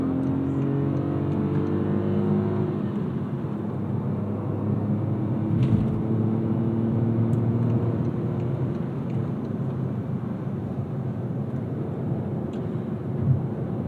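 A car on a narrow European road accelerates hard in second gear, its engine note climbing in a steady rising drone that fills the cabin, loud and close, with no talk over it.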